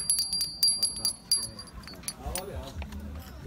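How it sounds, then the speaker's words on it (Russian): A small antique hand bell found at a flea market in Prague rings in several quick bright shakes, with a person talking and handling noises underneath. "И вот какой чудесный колокольчик. Прям как в фильмах."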